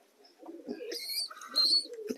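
Pigeons, adult birds and day-old chicks being hand-fed with a syringe, give soft low coos and murmurs in short bursts close by, with a few brief higher chirps mixed in.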